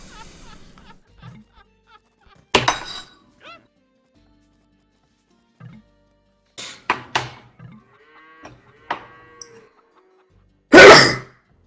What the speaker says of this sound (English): That was a nice sneeze